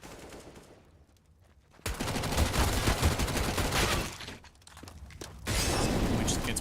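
Rapid bursts of gunfire from a Counter-Strike match near CT spawn, loud clustered volleys with sharp cracks, fading briefly before another heavy burst.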